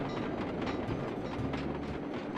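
A moving train in the video game Sly 2: Band of Thieves rumbles on with a steady clickety-clack of wheels on track, kept at a moderate level with no talk.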